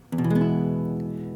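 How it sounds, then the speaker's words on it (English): A single strummed major chord rings out brightly on a toy guitar, then slowly decays over a second, heard alone. "That's just a strummed major chord."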